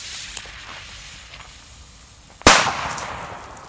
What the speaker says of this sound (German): Sehr schöne Knaller.